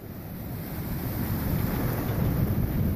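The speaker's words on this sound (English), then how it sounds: "So we're getting all this weather and surge and wind." Storm wind and surge around a sailboat: a continuous low roar of wind buffeting the microphone over rushing water, building slightly in strength and holding steady, with no speech.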